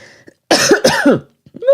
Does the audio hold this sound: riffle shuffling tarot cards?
no